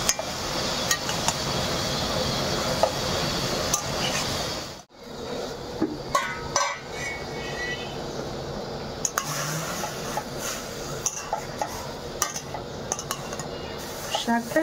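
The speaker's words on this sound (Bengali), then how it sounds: "দিয়ে এটাকে একটু নেড়ে চেড়ে দেবো।" A utensil stirs potato greens and slit green chillies in a pan, scraping and clinking against the metal with a faint sizzle, quiet and close, broken by a brief pause partway through.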